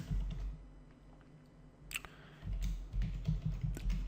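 Typing on a computer keyboard, faint, irregular clusters of soft key clicks and taps, sparse at first, then quicker bursts toward the end.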